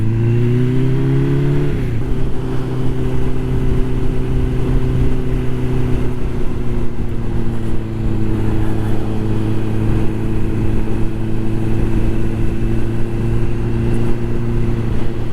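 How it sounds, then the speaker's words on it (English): Engines hum steadily nearby as cars and a wagon move along the road, one vehicle shifting pitch early on before a continuous rumbling drone carries through to the end. "2 cars and a wagon, and then another car."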